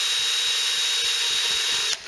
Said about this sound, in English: I'm also going to be using the little green Scotch-Brite on the drill as well